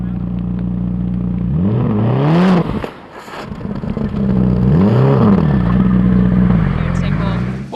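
Rally car on a stage, its engine revving in rising and falling surges up close, dropping away briefly during a spin before roaring back, with a commentator talking over it.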